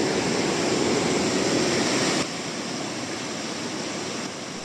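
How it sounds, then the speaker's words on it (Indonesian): River water flowing from the Grojogan Sewu waterfall roars as a steady, loud, broadband rush, unbroken throughout, with a slight drop in level partway through. "Suara gemuruh air sungai yang mengalir dari aliran air terjun kini terdengar lebih megah"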